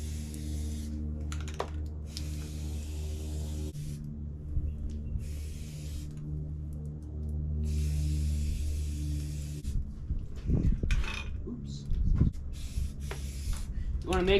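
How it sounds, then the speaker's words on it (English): Hunt Club Green spray paint hisses onto a wooden tree carving in short, repeated bursts, fairly faint and close, separated by pauses over a low steady hum. "then you spray the tree."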